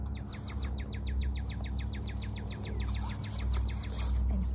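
Songbirds sing in a garden, a long run of quick repeated chirps and trills carrying clearly over a steady low rumble of background noise.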